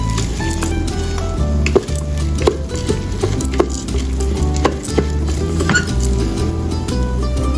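Rice with turmeric and ginger powder being stir-fried for yellow ginger rice, with repeated scraping and knocking of a spatula against the pan over a low sizzle, close and fairly loud.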